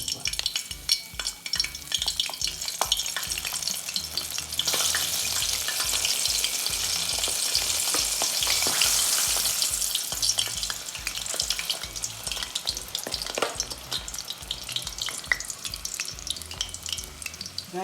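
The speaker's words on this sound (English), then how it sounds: "it's time for me to drop our fritters into our pot." Saltfish fritters frying in hot oil in a pot for Jamaican stamp and go, a steady close crackling sizzle with bubbling pops that runs unbroken throughout.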